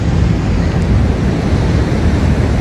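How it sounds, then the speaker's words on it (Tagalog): Sea surf rolling in at the rocky coast near Gaztelugatxe in the Basque Country, a steady close roar of waves mixed with wind buffeting the microphone, with no voices. "Ang dagat."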